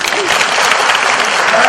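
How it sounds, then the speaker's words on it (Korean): Congregation applauding in praise of God at a 2017 Ilsan Christian federation Easter union worship service, a dense, loud, steady wash of clapping filling the whole moment. "하나님께 박수로 영광합니다."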